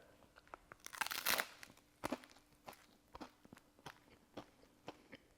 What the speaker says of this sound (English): You get the crunchy tostada